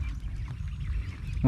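Ducks in a rice paddy: a murmur of low quacks and a louder close quack at the very end, over steady low rumbling background noise, with a voice present.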